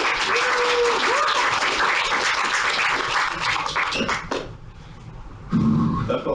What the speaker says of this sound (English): Clap if you think I'm cute.